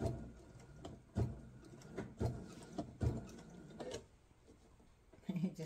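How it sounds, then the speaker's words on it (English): Sewing machine stitching an apron, bursts of mechanical whirring and clatter repeating roughly once a second, fairly quiet, with pauses between runs. "I'm going to sew straight up the end so I finish it off"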